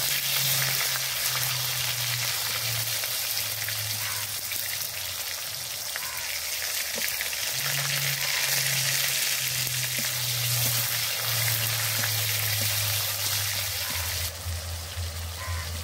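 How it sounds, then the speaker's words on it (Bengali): Tomato frying in a pan while cooking vegetable khichuri, with a steady dense sizzle and crackle close by throughout, alone with no talk. "টমেটোটা ভালো করে ভেজে নেব"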